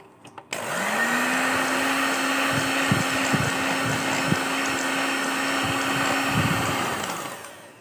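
An electric hand beater whips ghee for mini cakes with a steady, close motor whine that runs unbroken for about seven seconds, with soft knocks of the beaters against the bowl.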